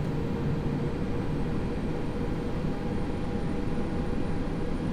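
Steady engine drone and rumble from an X-Plane 11 airliner as it starts taxiing after parking brake release, continuous and fairly loud with no talk.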